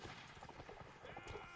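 Horse hooves clip-clop in a Napoleonic Wars line-battle video game, a quick irregular patter of soft hoofbeats under a busy, noisy battlefield background.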